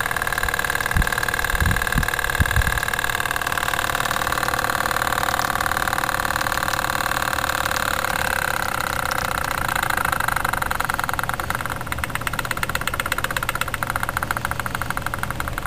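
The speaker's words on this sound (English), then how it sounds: "Whenever I run a steam engine." A steam engine fitted with a steam condenser runs steadily, giving a continuous, even mechanical drone with its exhaust noise muffled and no pauses.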